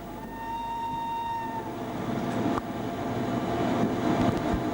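A train runs on the single-track Udine–Tarvisio line, heard as a steady, loud rumble of wheels on rail with brief whining tones early on and a sharper clack midway, no voices.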